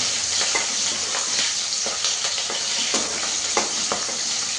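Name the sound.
onions frying in oil in a pan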